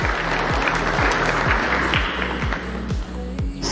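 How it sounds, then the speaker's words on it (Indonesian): An audience applauds at a university public lecture, a sustained wash of clapping with a steady, repeating low thump beneath it. "Sekali lagi mari kita berikan tepuk tangan yang meriah."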